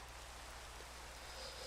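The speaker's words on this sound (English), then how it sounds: "it was raining in the game." Steady rain in Minecraft, a soft continuous hiss of falling drops with no breaks, even and moderately loud throughout.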